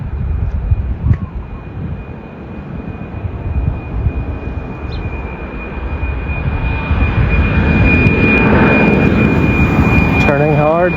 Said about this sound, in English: 777X has been here in Kona for a while as part of its flight testing program